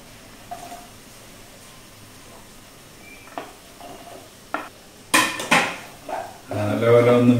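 Chopped snake gourd drops into a pan of sautéed onions: scattered light clinks and scraping stirs, then sharp clattering impacts and a rising loud sizzle of frying near the end.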